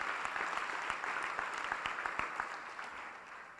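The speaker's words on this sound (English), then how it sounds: "We can just cheer for them." Guests at an awards dinner for young entrepreneurs applaud, a fairly faint, distant patter of clapping hands with a few sharper individual claps, fading slightly toward the end.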